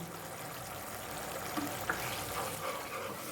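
Cashew paste and spice masala sautéing in a pan give a steady, moderately loud sizzle, with a few soft stirring clinks and scrapes over the continuous frying hiss.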